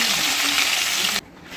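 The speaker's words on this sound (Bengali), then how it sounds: "এবারে আমি মাছটা ভেজে নেব।" Fish frying in hot oil in a wok, a loud close hiss of spattering oil that cuts off abruptly near the end, leaving quieter background.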